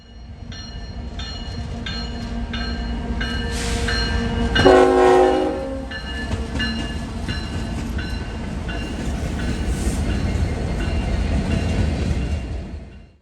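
A Norfolk Southern freight train rumbles past near Elkhart, Indiana, with loud blasts of a multi-tone horn, one long blast in the middle, over a steady rolling roar of cars.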